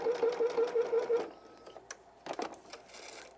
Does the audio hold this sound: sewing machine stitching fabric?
yes